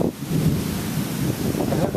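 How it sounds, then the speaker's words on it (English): Gusty wind from a microburst storm buffets the microphone in a loud, continuous roar with uneven surges, and no voices are heard. "And gusty winds"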